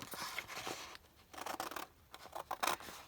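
Scissors trim paper for a handmade belly band, a quick series of close, crisp snipping cuts with short pauses between them and some rustling of paper, with no talking.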